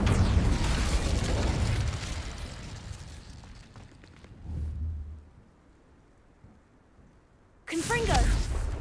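Casting the Incendio fire spell in Hogwarts Legacy, a game set at a wizarding school, bursts out as a loud, roaring whoosh of flame that fades away, followed later by a second sharp burst as a voice speaks.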